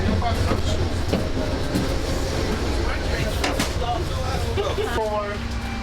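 A passenger train running on rails, heard from onboard: continuous loud rumble and rolling noise with faint clacks and squeals, steady throughout.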